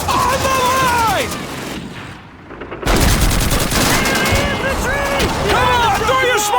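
Heavy gunfire in the WWII shooter Call of Duty 2: dense rapid bursts and loud shots fill the scene, with shouted voices over the battle and a short lull before the firing resumes.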